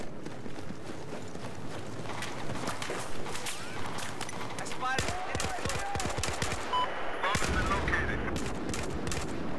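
Dense rapid gunfire and explosions from the video game Battlefield 4, with bursts of automatic fire layered over a continuous noisy battle backdrop.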